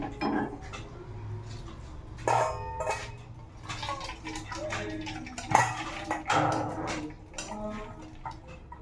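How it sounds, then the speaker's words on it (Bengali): Hot egg curry poured from a pan into a bowl on a home stove, with scattered metallic clanks and scrapes of cookware and utensils, some sharp knocks standing out among softer clatter. "আর এটাকে এই বাটিটার মধ্যে এবার ঢেলে দেবো।"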